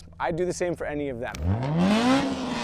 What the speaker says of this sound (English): He gave us a rev, why not?